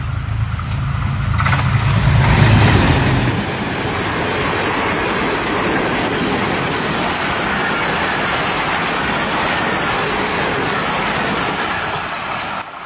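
Syed Express passenger train speeding into a railway station, a loud, close roar that swells early and then settles into a steady rushing rumble of wheels and rattling carriages, with no voices.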